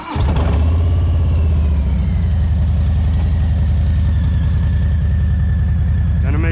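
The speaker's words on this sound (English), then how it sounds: "So all you gotta do is just start your bike in, have a little bit of faith" A Harley motorcycle engine runs steadily and loudly at a low, throbbing idle as the bike is loaded into a short-bed pickup truck. There is a slight rise in pitch near the end.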